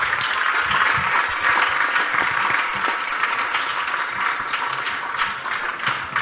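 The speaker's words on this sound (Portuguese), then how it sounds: "Ana Maria pede uma salva de palmas." Audience at a debate breaks into applause, a loud continuous patter of many clapping hands sustained throughout without a break.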